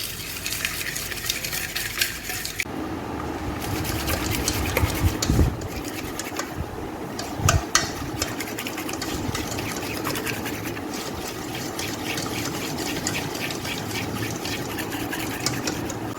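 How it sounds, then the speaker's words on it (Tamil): Jaggery powder and ghee beaten together in a bowl for wheat biscuit dough, a continuous close scraping and churning that runs steadily throughout with a few louder knocks. "இது கூட ஜாக்ரி பவுடர், வெல்லம் பொடி, இது ரெண்டுத்தையும் நல்லா பீட் பண்ணிக்கணும்."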